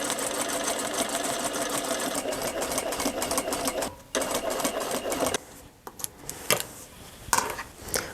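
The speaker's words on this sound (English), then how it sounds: "So half of the boning channels is now stitched." A sewing machine stitches boning channels on a handmade corset, running in a fast steady whir, pausing briefly, then restarting in shorter bursts and clacks near the microphone.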